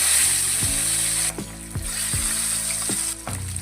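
Pabda fish frying in hot oil in a wok, a steady close sizzle broken by several soft thuds and bursts as the fish pieces go in one after another.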